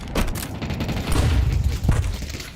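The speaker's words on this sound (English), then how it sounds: "A little gimmick to start the round with nades into the main." Grenades go off in a Counter-Strike match. A loud, dense stretch of booming blasts and crackle runs through the whole clip, with sharp bursts near the start and again shortly before the end.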